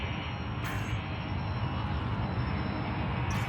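A spaceship engine in Elite Dangerous throttles up near a megaship, a steady, loud broadband roar that holds evenly throughout with no talk.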